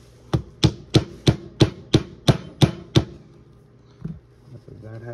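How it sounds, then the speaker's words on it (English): A hammer taps a grip pin into a Taurus TH9 pistol: eight light, evenly spaced metallic knocks, close and crisp, followed by a couple of softer handling sounds. "And then hammer in just gently to get it started off."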